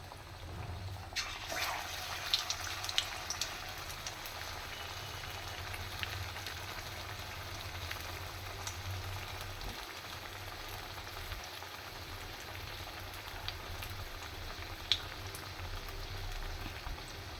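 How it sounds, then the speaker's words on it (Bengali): Egg chops coated in thick gram-flour batter fry slowly over low heat, giving a steady soft bubbling sizzle that runs on alone throughout. "ওইভাবে লো আছে আস্তে আস্তে সময় নিয়ে আমি ভেজে নেব এগুলো"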